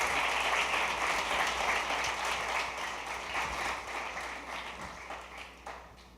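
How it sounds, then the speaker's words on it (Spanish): A church congregation applauds during a service, with dense clapping from a crowd in a reverberant hall that gradually fades toward the end. "Dele ese aplauso al Señor."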